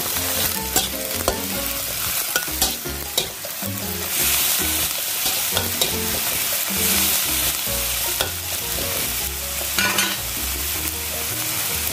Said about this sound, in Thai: ใส่กะหล่ำลงไปเลยนะคะท่านผู้ชมกรอบมากนะคะกรอบจริง